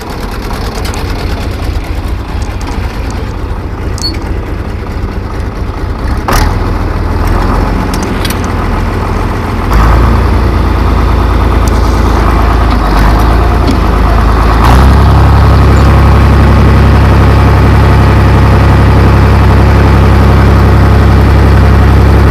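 Tractor engine running steadily while driving a Conestoga manure spreader with triple beaters, a loud, close, continuous low rumble with rattling and clanking bursts, ending in a heavier, deeper drone.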